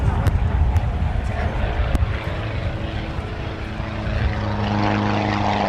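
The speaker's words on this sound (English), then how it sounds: "a demonstration of acrobatic flying had been arranged" A small propeller aircraft flies an acrobatic display at an airport, its engine a loud continuous drone that shifts in pitch as it manoeuvres, with a few sharp clicks early on.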